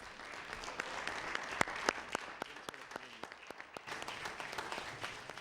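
Warm applause from members of the House of Assembly greeting schoolchildren from the Mennonite School in Black Rock, a steady wash of clapping with a few sharper individual claps standing out, moderately close and continuous throughout.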